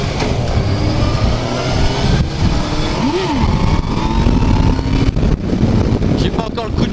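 A Yamaha Fazer 600 motorcycle revs during a wheelie attempt, the engine note climbing sharply once over steady wind rumble, close to the microphone, with a voice talking over it.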